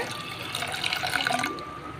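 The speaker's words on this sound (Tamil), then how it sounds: "ஜவ்வரிசி வேகிறதுக்கு அரை டம்ளர் தண்ணி ஆட்" Half a tumbler of water is poured into a pan of soaked sago, a close, bright splashing stream lasting about a second and a half before stopping.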